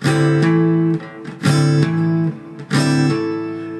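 Acoustic guitar bar chord strummed three times in steady succession, each ringing out with hammered-on notes that shift the pitch partway through, close and clear with no voices.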